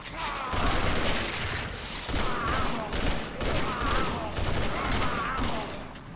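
Gunfire in the video game Resident Evil 6: dense, loud bursts of shots and booming impacts that roll on through the whole stretch in waves, with only brief dips, while a voice talks faintly in the background.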